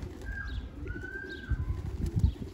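Racing pigeons at a loft, a few soft coos and thin calls over a low rumbling background, close and fairly quiet, no speech.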